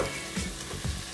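Ground meat sautés in a pan, giving a soft, fairly faint sizzle with a couple of brief stirring scrapes, close by and with no talking.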